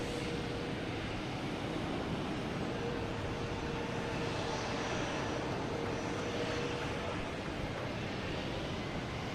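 American Airlines Boeing 777 on its takeoff roll at Boston Logan, a distant, even jet rumble with a faint thin whine, steady and unaccompanied by voices.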